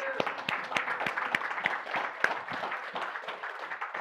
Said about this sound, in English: Auntie Lani, let's give her a round of applause.